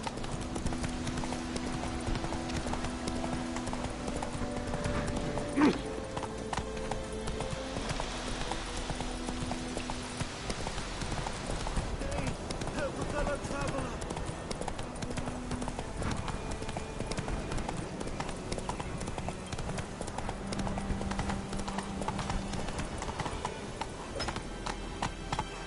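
Horse hooves clip-clop in a steady trotting rhythm during riding in a PS4 video game, continuous and fairly loud over a bed of game music and ambience, with no voice heard.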